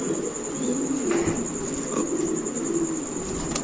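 Low, soft cooing of a large pigeon repeats through the clip over a steady high insect-like drone and faint background noise.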